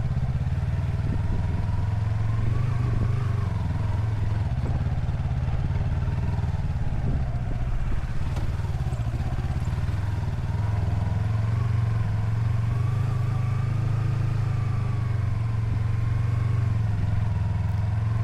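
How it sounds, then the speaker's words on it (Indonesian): Jeeps rumble along the black lava trail on Mount Batur, a steady mid-loud engine drone with rattling clatter that holds throughout, no single pass standing out. "Di sini juga kita berpapasan dengan beberapa kendaraan jeep yang dipakai oleh tamu untuk mengeksplor kawasan ini"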